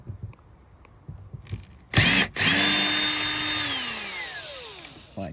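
Power drill whirring as it backs out T20 Torx screws from a BMW X3/X4 inner door panel, a short burst then a sustained loud whine that winds down, with no talking.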